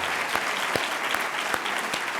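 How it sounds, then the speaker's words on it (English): A convocation audience applauds the new interim provost and vice chancellor for academic affairs at a university ceremony, steady dense clapping filling the hall throughout with no voices over it. "I'd ask us if we can give her a round of applause to welcome her as interim provost and vice chancellor for academic affairs."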